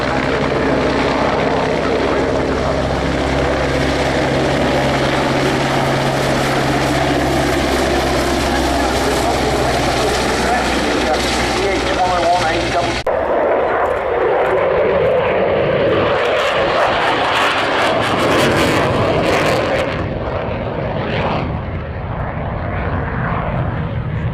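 An aircraft at the Waddington air display produces a sustained, loud engine roar with a propeller hum; partway through the tone shifts abruptly to a rougher, broader rush as the aircraft passes, with faint voices in the background.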